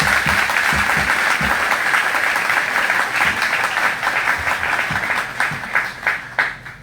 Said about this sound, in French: arriver juste avec une pluie d'applaudissements